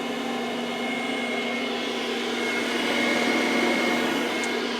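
A Sweet Maria's popper coffee roaster runs with a steady, even fan whoosh and hum, close and constant for a few seconds, with no speech.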